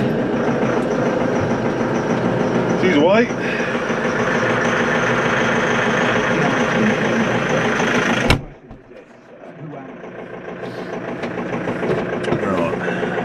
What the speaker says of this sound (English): So we're gonna grab the straw chopper.